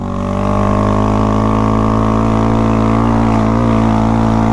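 A Honda Grom motorcycle ridden hard gives a loud, close, steady engine drone held at high revs, its pitch wavering slightly and no voices heard.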